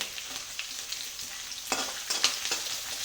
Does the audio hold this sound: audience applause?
no